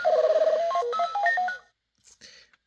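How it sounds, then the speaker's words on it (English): An Imaginext Superman mech toy robot plays electronic sound effects from its small speaker: a warbling beeping tone sequence with stepping pitches, then brief chirps after a pause, close and alone. "Makes some robot noises."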